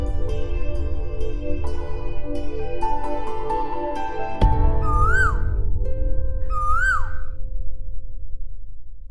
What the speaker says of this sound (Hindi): कोयल वापस आ गई।